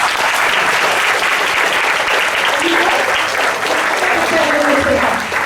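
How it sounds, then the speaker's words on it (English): Loud, sustained applause from a crowd at a school assembly, steady clapping filling the space throughout. "Give him a big round of applause."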